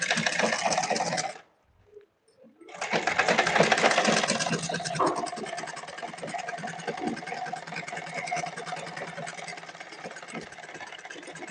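A sewing machine runs a double seam on a party-wear blouse, a steady rapid mechanical stitching whir that stops briefly near the start, then resumes and carries on close and continuous.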